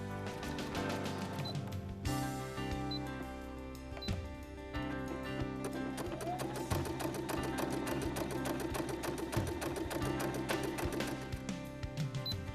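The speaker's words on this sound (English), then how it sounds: "the Pacesetter ULT 2002D will not only sew backwards and forwards, but laterally as well, with both a straight stitch or a zigzag stitch" A Brother Pacesetter ULT 2002D sewing machine stitches steadily, with rapid mechanical clicks running throughout over a continuous musical background.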